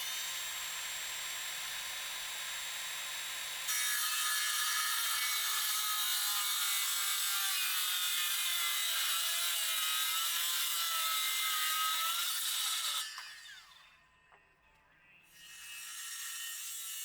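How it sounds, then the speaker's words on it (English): A circular saw cutting the corner off a piece of lumber, a loud sustained high whine through the wood for about ten seconds, then spinning down to a brief pause before revving up again. "After I traced the cut mark, I used my circular saw to cut the corner off."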